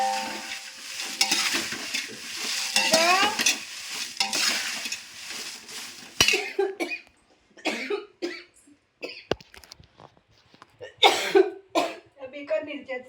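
Chillies roast in a pan with soft sizzling and stirring scrapes, broken by coughing and someone talking in a home kitchen; the cooking noise is loudest at first, then gives way to clatter and coughs.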